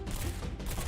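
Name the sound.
SMG gunfire in the video game Girls' Frontline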